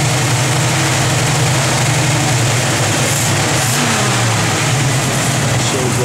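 The small-block V8 of a 1971 Chevrolet C10 pickup runs steadily nearby with the air conditioning switched on, a loud continuous low rumble with a slight rise in revs partway through.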